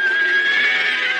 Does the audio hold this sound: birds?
no